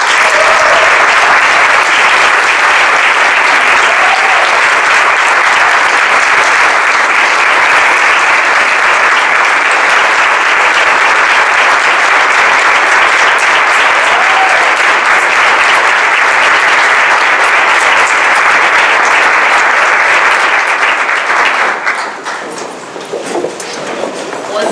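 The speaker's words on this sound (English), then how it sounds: "All that clapping for me or you?" Loud, dense applause and clapping from an audience at an event against gun violence, sustained for about twenty seconds before thinning out near the end, with no talking over it.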